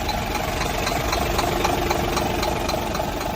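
Used Japanese car engine idling steadily, a close, even mid-pitched hum with faint rhythmic ticking and no voices.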